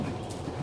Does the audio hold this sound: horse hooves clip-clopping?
yes